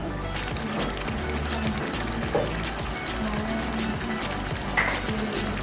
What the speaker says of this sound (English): I'll leave it to boil for like 3 minutes for it to be ready